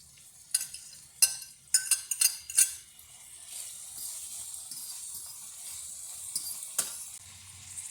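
Saltfish hits a hot pan for Jamaican ackee and saltfish, with a few sharp clanks of a utensil stirring against the pan early on, then a soft continuous sizzle of frying.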